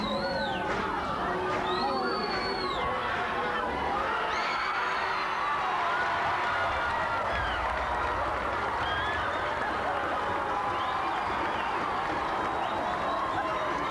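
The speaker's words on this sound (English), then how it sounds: "The cheer of the crowd must have told you what happened." Large crowd cheering and shouting at a school rugby final, a sustained roar of many voices with whoops and yells, loud and continuous, under a commentator talking over it.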